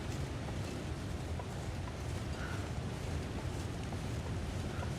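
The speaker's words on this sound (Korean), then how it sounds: "폭포 소리 같거든요? 폭포네." Water rushes in a constant, even roar, like a waterfall in the video game The Long Dark, steady and fairly soft with no other sounds standing out.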